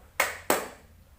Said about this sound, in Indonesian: Apabila Ibu menyebutkan tepuk tunggal, maka kalian dapat menepuk 1 kali.